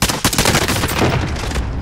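Rapid automatic gunfire in a first-person shooter video game, a dense, loud burst of quick repeated shots running continuously for about two seconds.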